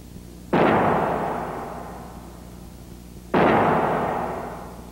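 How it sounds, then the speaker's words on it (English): Two sudden loud cracks, a few seconds apart, as a Boeing 747 wing breaks in a strength test, each bursting like an explosion and then fading into a long rumbling decay. "when it finally lets go. I mean, it sounds like an explosion"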